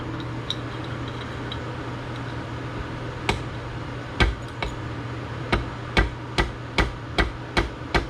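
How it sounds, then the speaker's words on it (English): Hammering a wrist pin into a piston of a Yamaha 50TLR outboard motor during crank replacement: a few scattered taps, then a steady series of about eight sharp metallic blows at regular intervals over a low workshop hum. "So I'm gonna have to hammer it."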